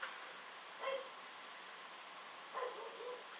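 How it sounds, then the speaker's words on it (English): A dog barks faintly in the background, two short separated bursts of barking at a distance over a steady hiss of room noise. "ignore the barking dog in the background"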